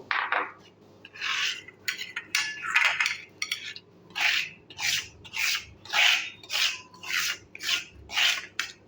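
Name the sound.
grinding garlic on a grinding stone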